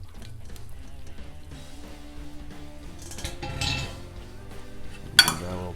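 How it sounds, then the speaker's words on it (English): Pasta and sauce ladled into a bowl for lamb ragu with pappardelle: low clattering and scraping of utensils against dishware, with a sharp clink near the end. "ladle a couple spoons of sauce into the bottom, and we'll dump our pasta in"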